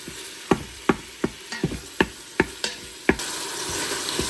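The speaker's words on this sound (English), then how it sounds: "I'm just browning up a pound of ground beef that I dug out of the freezer." A pound of frozen ground beef browns in an Instant Pot, heard as a faint background sizzle broken by about ten sharp, regular scraping strokes of a utensil against the pot, with the sizzle rising toward the end.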